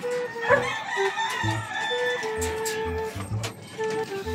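A rooster crows in Tondo, its call rising over clucking chickens and farmyard noise with repeated low thumps, fairly close and clear, without speech.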